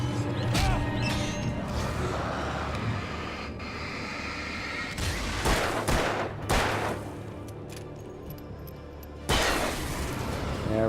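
Gunfire in the Alan Wake video game, with rapid bursts of loud, close shots and clattering mechanical effects over a steady game backdrop, followed by a few sharper blasts near the end.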